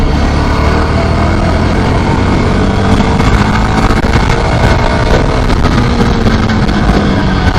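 A Ducati Scrambler motorcycle ridden on the road, its engine a loud, continuous drone heavily buffeted by wind rushing over the microphone, with no talking.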